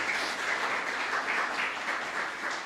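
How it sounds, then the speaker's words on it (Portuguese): A church congregation at a worship service claps together in a steady, even wash of applause, heard at moderate distance with no voice over it. "Vamos aplaudir o Senhor Jesus na vida dele"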